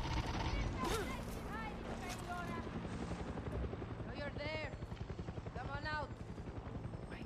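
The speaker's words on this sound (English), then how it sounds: "The helicopter." Helicopter rotor drone in the video game Far Cry 6, a steady loud chopping roar running throughout under a busy game mix with sporadic gunfire-like bursts and someone talking over it.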